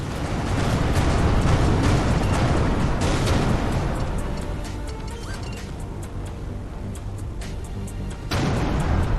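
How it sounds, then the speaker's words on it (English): An explosion in the space-combat video game Everspace 2, a loud rumbling blast that swells and crackles, eases midway, then surges again near the end. "Vacate this area at once. Explosion imminent."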